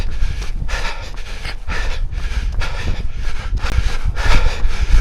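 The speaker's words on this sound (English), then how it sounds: "I'm breathing hard." A runner on an 8 km river run breathes hard and fast, with rhythmic loud panting gasps about every half second, close to the microphone and with no talking.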